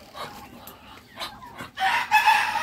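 Chickens cluck in a home with pets, a few short scattered calls early on, then a louder, denser burst of clucking near the end, close by with no talk.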